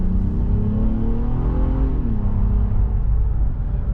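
A 2019 Honda Passport mid-size SUV accelerates out of a turn, its 260-horsepower engine rising in a steady, close, droning rev that climbs in pitch and then levels off.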